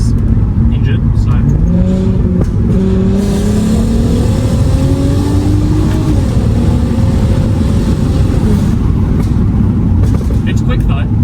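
A 2008 Volkswagen Golf R32 Mk5 hot hatch, running with a fault, accelerates hard along a short straight, its engine note climbing steadily and loudly from inside the cabin under continuous talk.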